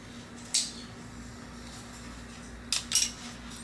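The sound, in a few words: scissors cutting a jade plant branch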